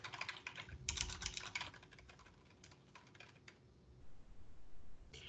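CSS code is typed on a computer keyboard in quick, irregular bursts of close key clicks, denser at the start, pausing briefly, then resuming softly.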